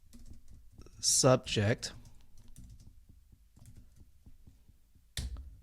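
Typing on a computer keyboard, a run of light, quick key taps under a voice, with brief louder speech at times and a final sharper click.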